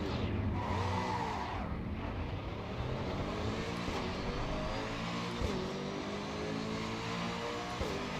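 An AMG race car in Assetto Corsa EVO roars close and loud, its engine note sweeping up and down through repeated gear changes and revving pulls, with no voices over it.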